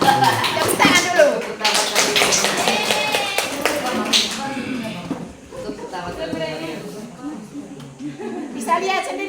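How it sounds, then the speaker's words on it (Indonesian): Classroom clapping for the top-ranked students, quick irregular hand claps from a group of students mixed with children's chatter and voices, busiest at the start and thinning into scattered claps and talk. "Tepuk tangan dulu."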